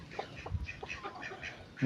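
A few soft, nasal duck quacks come in a quick series at moderate distance, with a louder noise bursting in at the very end.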